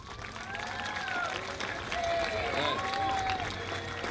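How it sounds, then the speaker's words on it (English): Graduation audience in a hall applauding their teachers, a sustained wash of clapping with crowd murmur and excited voices calling out over it. "find your teacher, turn toward them, and give them a round of applause."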